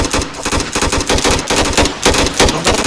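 Rapid machine gun bursts from a Philippine Army armor unit test firing in Southern Mindanao, loud and near, with dense repeated cracks pounding steadily throughout and no talking.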